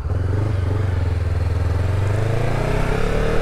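A Honda CB500X motorcycle being ridden, its steady engine drone loud and close, with a slight rise in pitch toward the end and wind noise layered over it.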